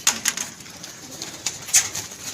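Pigeons kept in pairs coo in a breeder's loft. Soft, close, repeated coos are broken by a few brief sharper calls against a quiet background.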